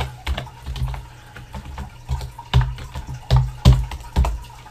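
Rapid, irregular keystrokes on a computer keyboard while code is being typed, with several louder clusters of clacks standing out over a faint background hum.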